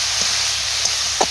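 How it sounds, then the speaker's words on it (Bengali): Fried potatoes are stirred into a sizzling spice masala in a pan while cooking a cauliflower and egg curry; a steady frying hiss runs throughout with a few soft stirring scrapes near the end. "এখন কিন্তু আমি ভেজে রাখা আলুটা দিয়ে দেবো। ভেজে রাখা আলুটা দিয়ে কয়েকটা নাড়াচাড়া করে"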